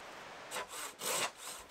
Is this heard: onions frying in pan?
no